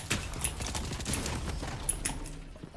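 SMG fire in a video game rattles as a dense run of rapid, close, crackling shots, with bursts merging into steady clatter.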